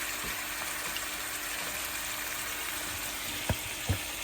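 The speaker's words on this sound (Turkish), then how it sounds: "ince ince doğramış olduğumuz tavuklarımız arkadaşlar şöyle pişsin bunlar" Steady, quiet sizzling of thinly chopped chicken pieces frying in a pan, with a couple of soft clinks near the end.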